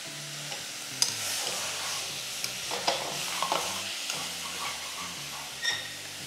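Beef sautéing on high flame in a pan with curry leaves, a quiet steady sizzle under repeated scraping and stirring strokes, a few sharp clicks of the utensil against the pan.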